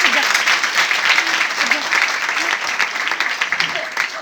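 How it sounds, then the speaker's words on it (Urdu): A church congregation claps loudly and steadily for several seconds, a dense, sustained burst of applause filling the room. "زوردار تالیاں اپنے خدا کے لیے"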